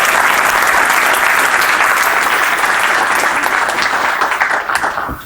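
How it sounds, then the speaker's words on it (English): A live audience gives a loud, full round of applause, with dense clapping from many hands holding steady and then thinning slightly near the end. "So can we give them a round of applause"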